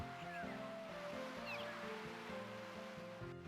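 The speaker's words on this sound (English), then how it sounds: "Just the music, the crashing of the waves, the beach." Ocean waves crashing on the shore of a beach town in an RPG video game, a soft steady surf wash heard faintly beneath the game's looping music, with no talking.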